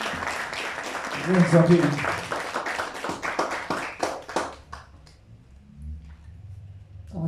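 Audience applause at a lecture on Peruvian criolla music rises to a moderate level for a few seconds, thinning into scattered claps as a voice speaks briefly over it before quiet.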